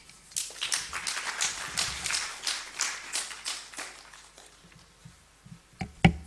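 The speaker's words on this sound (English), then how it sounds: "Let's give her another round of applause" An audience at a live event in Uganda breaks into scattered, irregular applause. Individual claps ring out close by, then thin out toward the end, with a few louder sharp taps.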